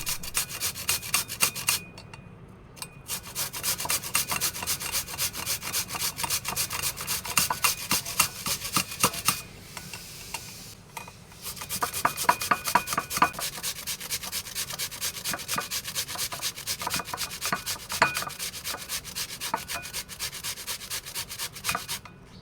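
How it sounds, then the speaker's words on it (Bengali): Potatoes rubbed briskly against a metal hand grater, a steady rasping scrape repeating in fast strokes, close and loud, with two short pauses between runs. "প্রথমে আলুগুলোকে আমি গ্রেটার দিয়ে গ্রেট করে নেব।"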